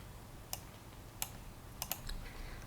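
Mouse clicks while opening a file in Autodesk Inventor CAD software: four faint, sharp clicks spaced across a quiet stretch, the last two close together, over a low hum with no talk.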